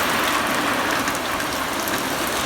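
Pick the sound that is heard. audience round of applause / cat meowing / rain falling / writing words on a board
rain falling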